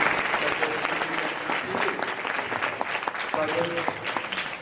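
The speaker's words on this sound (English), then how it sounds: "We can give a good round of applause to an acknowledgement." An audience at a school merit day gives a sustained round of applause, a dense steady wash of many hands clapping nearby, with voices and a few pitched sounds audible beneath it.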